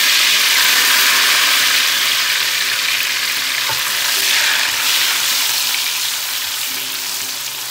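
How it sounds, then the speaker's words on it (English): Onion paste sizzles and fries steadily in a pan, a continuous close hiss with occasional faint stirring clinks, no voices over it. "I'm going to fry only the onion paste, and you have to fry it until completely the onion smell goes out."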